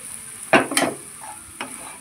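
Garlic and grated coconut frying in a pan with added masala, red chilli powder, chutney, salt and turmeric, giving a few loud stirring scrapes and sizzling bursts over a low steady sizzle, close by with no talk.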